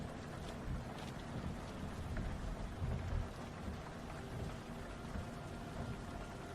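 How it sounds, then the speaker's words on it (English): Steady, even rain patters against windows with a dense, continuous wash and a low rumble beneath, constant in level throughout and with no voices. "The rain has started picking up again, tapping gently against the windows."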